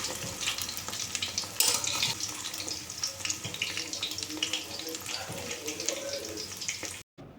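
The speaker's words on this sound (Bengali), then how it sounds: "দু পিঠ লাল লাল করে ভেজে নেব।" Banana stem fritters frying in hot oil until reddish on both sides, giving a dense continuous sizzle with bubbling pops that stays steady, then cuts off abruptly near the end.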